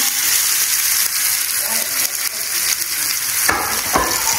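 Fish frying in hot coconut oil, a loud, steady broadband sizzle that fills the whole span, with a few brief crackles and stirring bursts near the end.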